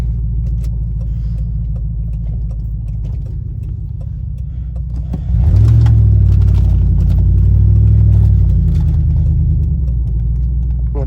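A $1,200 car with over 222,000 miles driving along, its steady low engine rumble swelling noticeably louder partway through and holding there, heard from inside with no talk.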